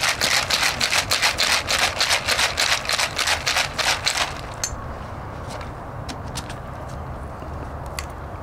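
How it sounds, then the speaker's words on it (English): A cocktail shaker is shaken hard in a fast, even rattling rhythm for about four seconds, then stops, leaving a few faint clicks over background hiss. "You give it a good shake"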